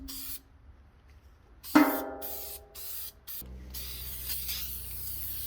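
Paint stripper sprayed from an aerosol can onto a truck oil pan during an engine build, heard as a loud hissing burst after a few quieter spurts, followed by a steady softer hiss.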